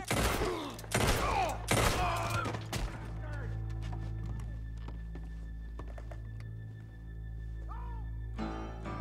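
Gunshots in Red Dead Redemption 2, a quick cluster of three or four loud, sharp blasts at the start, then a lingering low hum with faint scattered knocks and a brief rustle near the end.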